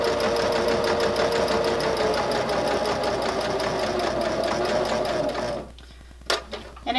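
A sewing machine runs a steady, continuous stitching whir while sewing a seam along the edge of a fabric casing for a grocery bag holder, then stops near the end, leaving a few faint clicks.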